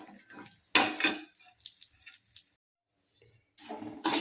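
Dry fruits being fried in a pan for rava unde: metal clatter of a spoon stirring against the pan comes in bursts, then briefly stops before the scraping resumes, close and fairly loud.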